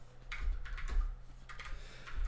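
Someone types on a computer keyboard while working in a code terminal, with close, uneven clusters of key clicks in short bursts over a steady low hum.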